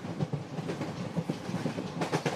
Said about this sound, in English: the tracks make an actual loop, the train passing over a bridge which it had just passed under a few minutes before